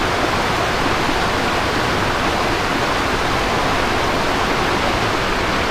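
Rushing river water at Devkund waterfall makes a steady, dense, loud roar that fills the whole stretch without a break, with no voices heard.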